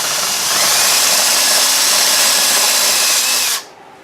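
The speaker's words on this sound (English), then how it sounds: "your bit has to turn real fast, and your lug has to be real solid, like in a vise here" A power drill bit spins fast, boring into a lug clamped solid in a vise. The whine is loud, close and steady for about three and a half seconds, then cuts off sharply, with no talking.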